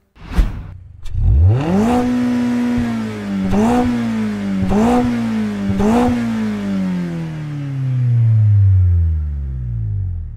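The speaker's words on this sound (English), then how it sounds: "hopefully the engine was a little bit warm before we absolutely revved the nuts out of it there" A Gran Turismo video game sports car engine starts and revs hard several times in quick bursts, loud and close, then settles into a steady idle that slowly winds down.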